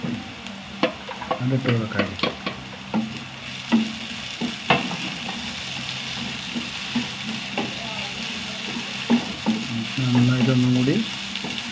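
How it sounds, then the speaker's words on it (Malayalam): A small piece of ginger and two garlic cloves are sautéed in a pan, giving a steady sizzle under repeated close stirring scrapes and clinks that come in bursts across the stretch. "നന്നായി വഴറ്റിയെടുക്കട്ടെ ചെറിയ കഷ്ണം ഇഞ്ചിട്ടാ രണ്ട് അല്ലി വെളുത്തുള്ളി"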